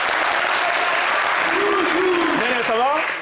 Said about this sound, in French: Merci d'applaudir Néné, s'il vous plaît.